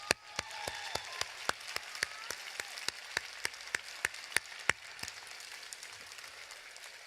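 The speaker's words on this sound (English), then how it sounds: "Let's do some clapping for them." Clapping at a law school commencement ceremony, heard as sharp, distinct hand claps in a quick, uneven rhythm over a soft background of scattered applause, close and fairly faint, tapering off toward the end.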